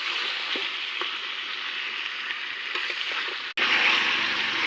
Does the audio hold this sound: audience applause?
no